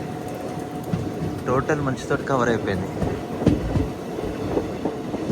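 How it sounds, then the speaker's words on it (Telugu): Machilipatnam Express number 17220 rolls slowly through fog between Visakhapatnam and Machilipatnam, a steady low rumble and rattle of the carriage running beneath someone speaking throughout. "అందుకోసం ట్రైన్ కూడా మెల్లగా పోతుంది అనుకుంటా"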